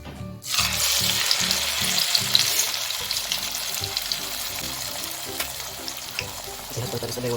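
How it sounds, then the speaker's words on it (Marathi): Spinach vada frying in hot oil, a loud close steady sizzle that starts abruptly and keeps crackling, with faint clinks and a soft voice in the background. "अशा प्रकारे आपल्याला ब्राऊन रंग येईपर्यंत तळून घ्यायचा आहे वडा"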